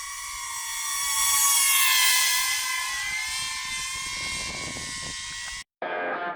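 A DJI drone gives a close, high-pitched whirring whine that swells slightly and holds steady, then cuts out abruptly and briefly resumes at a thinner pitch, with no talking.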